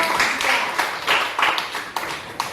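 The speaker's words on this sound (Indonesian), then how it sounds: "berikan aplaus untuk kelompok 3" A room of people claps for the third group after their presentation, a moderate, uneven patter of hands close by with a few louder individual claps.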